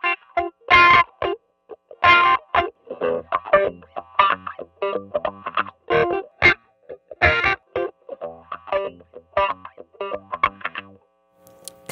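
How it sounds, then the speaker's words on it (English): Funk electric guitar played through an auto wah with a wah pedal also engaged, giving short choppy strummed chords and single-note stabs with a quacking, sweeping filter, loud and continuous with brief gaps. "Now, with the actual wah pedal engaged too."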